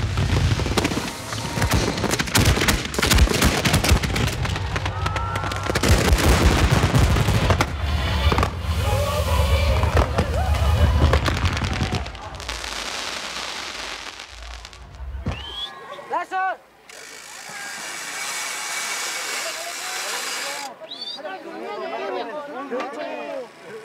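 Fireworks fired from an electronic firing system at a display: dense, loud bursts and booms crackle continuously for about fifteen seconds, then fade to scattered distant pops, crackling and whistles as people talk in the background.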